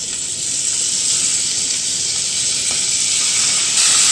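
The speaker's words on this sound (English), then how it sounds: "When you put the shrimps in, you're supposed to hear that sizzle sound." Shrimp for shrimp scampi sizzle loudly in a hot oiled pot, a continuous bright hiss that holds steady for several seconds with no talking.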